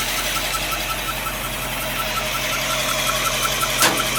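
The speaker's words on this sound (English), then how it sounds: "I think it's a water pump squeaking." A 1957 Oldsmobile Rocket 88 engine running steadily up close, a dense mechanical drone with a faint high squeal from the water pump woven through it.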